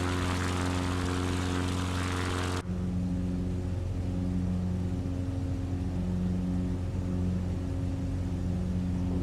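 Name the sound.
CubCrafters XCub propeller airplane engine in flight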